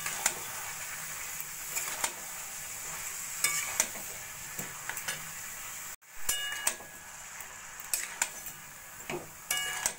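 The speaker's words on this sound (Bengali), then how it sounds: "বাঁধাকপি দিয়ে ভালো করে মশলার সঙ্গে মিশিয়ে নেব।" Boiled cabbage is mixed with spices in a pan for prawn and cabbage curry: quiet frying hiss broken by sharp scrapes and taps of a spoon against the pan, coming in irregular bursts with a brief drop-out midway.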